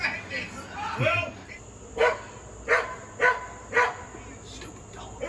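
A dog barks several times in short, spaced bursts, fairly close, mixed with background voices and a few yelps.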